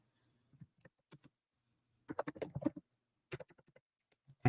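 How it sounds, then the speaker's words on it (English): Typing on a computer keyboard: sparse, close key taps in short bursts with silent gaps between them, then a quick cluster of clicks near the middle and a few more near the end. "I'm typing in keywords."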